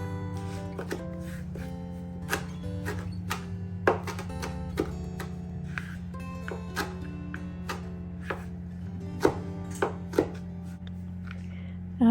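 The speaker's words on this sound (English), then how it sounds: "I'm just taking the Motherwort and roughly chopping the leaves." Motherwort leaves roughly chopped with a knife on a board, a steady series of crisp, close chops over a constant low hum.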